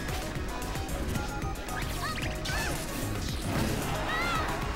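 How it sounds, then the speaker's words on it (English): Sword smash attacks in Super Smash Bros for Wii U, a couple of heavy crashing hits and whooshes inside a dense, busy game soundscape, with steady crowd-like noise throughout. "Doing a couple random sword smashes."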